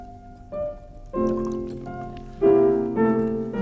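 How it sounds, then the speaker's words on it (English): Water runs and splashes while electrodes are rinsed during a school conductivity experiment, a steady close pour with tonal ringing that swells in two stages. "Give a wash of the electrodes."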